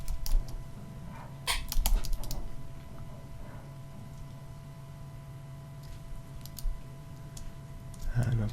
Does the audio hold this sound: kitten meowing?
no